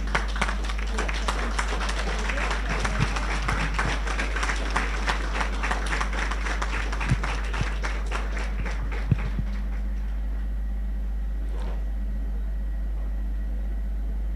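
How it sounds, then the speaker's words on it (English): Graduation audience claps for a guest speaker, a dense patter of hands over a steady low hum that thins out and fades after about ten seconds, leaving quiet room tone. "give me a round of applause"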